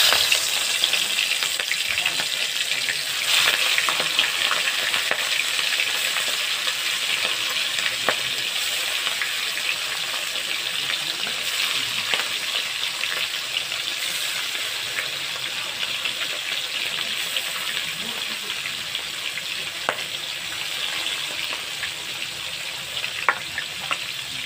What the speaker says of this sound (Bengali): চিংড়ি মাছটা নুন হলুদ দিয়ে মেখে নিয়েছি, এবার ভেজে নেব।